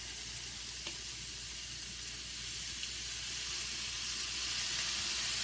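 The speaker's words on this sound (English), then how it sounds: "And it's sizzling." Steady sizzling of food frying in a hot pan, a constant crackly hiss with a few small pops, close by and with no talking.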